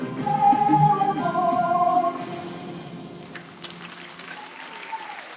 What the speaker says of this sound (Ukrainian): ще раз ваші оплески